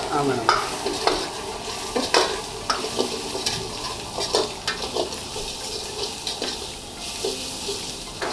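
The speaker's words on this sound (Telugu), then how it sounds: "ఒక ఉల్లిపాయ రెండు పచ్చిమిర్చిలు అయితే తీసుకొని ఫ్రై చేస్తున్నాము గీలో" Onion and green chillies frying in ghee, a steady hiss of sizzling broken by sharp clinks and scrapes of a spoon stirring in the pan, close and fairly loud throughout.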